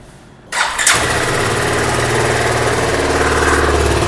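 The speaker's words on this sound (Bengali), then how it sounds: "দেখুন এই হচ্ছে বাইকটার এক্সজস্টের সাউন্ড" A BSA Gold Star 650 motorcycle cranks and fires up about half a second in, then settles into a loud, steady idle with a throaty exhaust, close by and with no talking.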